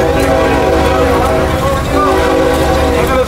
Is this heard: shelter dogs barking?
no